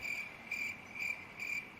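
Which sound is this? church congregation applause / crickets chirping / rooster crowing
crickets chirping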